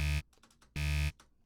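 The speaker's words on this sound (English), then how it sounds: "Buzzer in case you do something you're not supposed to do or can't" A synthetic game buzzer sound effect, marking a disallowed action, sounds twice as flat, harsh electronic blasts of about a quarter second each, loud and alone against a quiet background.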